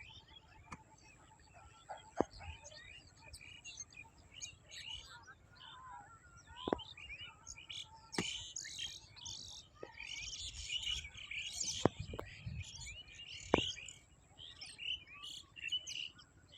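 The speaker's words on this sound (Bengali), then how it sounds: "পাখিটি আবারও চলে আসছে," Small birds chirp and call repeatedly around a village, sharp tweets scattered over steady soft background noise, some near and some farther off, with no one speaking.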